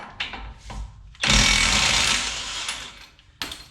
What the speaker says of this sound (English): And that's why I love this air gun, this 20 volt DeWalt with the impact.